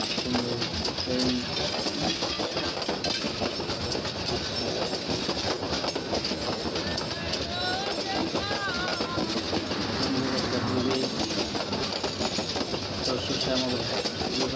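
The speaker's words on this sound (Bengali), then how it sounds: "মাঝখান দিয়ে ট্রেন চলে আসছে।" A train runs along a curving railway line through green fields near a bridge in Mymensingh, Bangladesh, with a steady rumble and rhythmic clickety-clack of wheels plus some faint squeals, close and continuous throughout.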